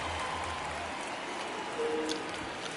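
A baseball stadium crowd in the video game MLB The Show 23 cheers and applauds as a steady, moderately loud wash of noise with a low hum early on.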